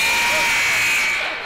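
An end-of-quarter buzzer sounds in a gym at a varsity boys basketball game between Lafayette and Ritenour. It is a loud, continuous electronic blare filling the whole moment over crowd noise, fading slightly at the end.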